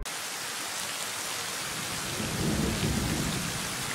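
A thunderstorm over a rough sea near an island: heavy rain pours steadily while a deep thunder rumble swells in the second half, loud and enveloping with no voices.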